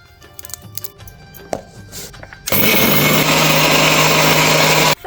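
Sugar and cardamom pods are ground in a kitchen mixer grinder, which starts abruptly after a few soft clicks and handling noises and then roars loudly and steadily at close range before cutting off.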